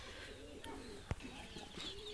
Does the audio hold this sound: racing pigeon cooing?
yes